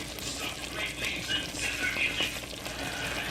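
Egusi soup with catfish cooking in a pot, a quiet bubbling simmer with faint sizzling and occasional stirring sounds.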